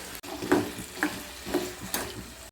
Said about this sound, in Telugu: తర్వాత పొటాటో కూడా వేసుకోవాలి కొంచెం సాల్ట్ వేసి కలగట్టుకోవాలి